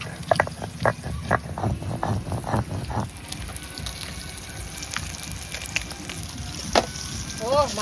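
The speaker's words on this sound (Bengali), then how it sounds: "মাছগুলো হেভি ভাজা হচ্ছে একদম" Pieces of a large 4.2 kg canal fish fry in hot oil, giving a steady, dense crackle and sizzle, with a few low voices audible early on.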